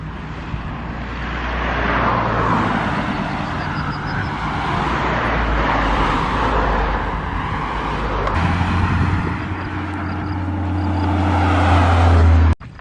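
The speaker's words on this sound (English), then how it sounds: "Look at all those tourists who are at the lake, who pass in here with their cars and bikes and campers and whatever." Cars passing on a busy road by a lake in the German countryside, a continuous close traffic roar with swells as vehicles go by, loud throughout, ending in an abrupt cut.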